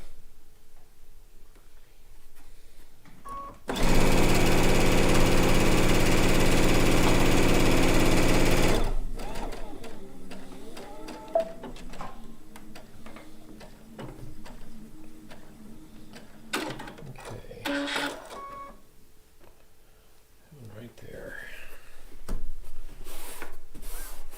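A sewing machine runs in one steady, loud burst of about five seconds, stitching quilt pieces for a blue and white quilt top, followed by quieter rustling and handling of fabric.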